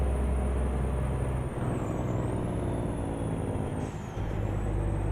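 A fire truck in American Truck Simulator gives a steady, loud, low engine rumble, with a thin high whine gliding in pitch above it and a brief dip in the drone near the end.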